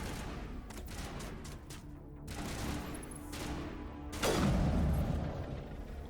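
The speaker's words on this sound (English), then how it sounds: "So he's shooting." Bursts of gunfire and a heavy boom from the video game Mass Effect, with rapid shots early on and a louder blast near the end over a constant game soundscape.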